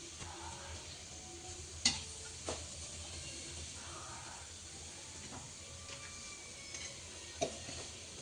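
Oil heats in a pan on the stove, giving a faint, steady hiss with low background noise and a few soft clicks and knocks, close but quiet.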